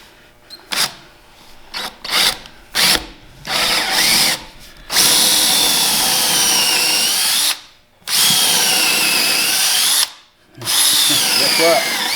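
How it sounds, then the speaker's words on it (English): A power drill drills into wood for a trailer floor, whirring in several short bursts, then running in long sustained stretches with brief pauses between, loud and close. "I just center the drill on the pencil mark."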